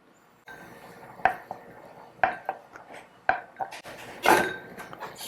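Cubed tofu and zucchini dropped into a pot of beef doenjang stew, giving several sharp clunks and clatters against the metal pot over a low background hiss, with no talking.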